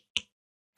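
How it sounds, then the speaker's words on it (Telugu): A single sharp finger snap rings out alone in a quiet room, made to call someone over, followed by silence and the onset of another faint sound at the very end. "2 చిట్కలే చూద్దాం."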